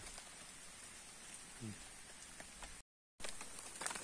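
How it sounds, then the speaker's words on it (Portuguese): Heavy rain falls steadily during a fishing trip, a faint, even hiss of drops on surfaces that continues throughout, broken by a brief cut, with a little voice murmur mixed in. "a chuva tá engrossando"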